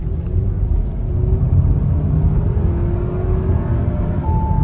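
A car engine rumbles steadily up close, the low drone holding firm with a faint rising whine as it picks up speed.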